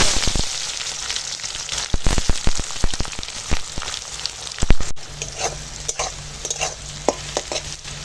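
Onions sizzle and crackle up close in hot oil with a bay leaf, with frequent scraping stirs and clatters against the pan, no voices.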